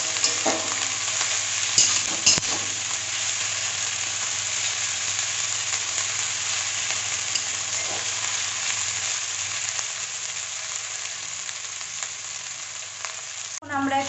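Garlic and ginger paste frying steadily in a hot pan, a continuous loud sizzle lasting throughout with a few utensil scrapes near the start and a sharp clatter at the very end.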